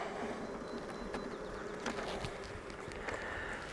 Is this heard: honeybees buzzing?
yes